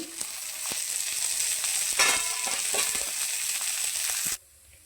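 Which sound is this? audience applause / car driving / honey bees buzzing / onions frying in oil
onions frying in oil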